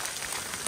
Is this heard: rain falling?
yes